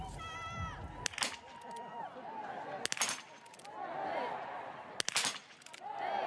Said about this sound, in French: Suivons d'abord le tir de Julia Simon.